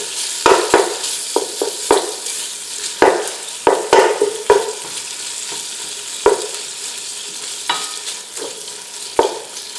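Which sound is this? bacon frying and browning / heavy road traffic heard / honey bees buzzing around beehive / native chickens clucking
bacon frying and browning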